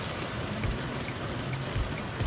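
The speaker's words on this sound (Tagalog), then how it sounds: "Diri-diri ay ang ulan." Heavy rain pours down in a steady, dense hiss with scattered louder drops and splashes, continuous throughout with no voices.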